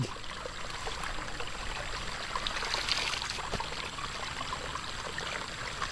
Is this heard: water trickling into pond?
yes